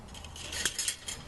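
A short metallic snip as wire is cut off a live-catch bird trap with linesman's pliers. It is one quiet, close clip lasting about a second, with no talk.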